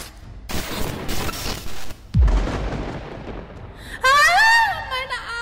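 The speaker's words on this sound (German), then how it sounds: "Die Explosion hat mich geblendet." A magical explosion effect in a German audio drama: a sharp booming blast that crackles and rumbles, then gives way to a rising, shimmering whoosh of sparkling tones.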